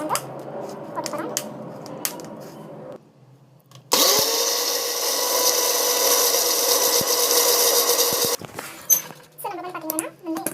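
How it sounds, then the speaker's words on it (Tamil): Handling and rustling sounds, then an electric mixer grinder roars loudly for about four seconds grinding herbs for a hair pack, before stopping, followed by clattering. "மிக்ஸில் போட்டு அரைச்சிட்டு அண்ட் தென் நம்ம வந்து பார்த்தீங்கன்னா இது வந்து ஒரு ஹேர் பேக் வந்து போட்டு போகிறோம்"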